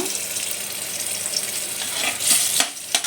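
Dried chilies crackle and sizzle as they temper in hot oil, a steady frying hiss with a few sharper pops, no talking.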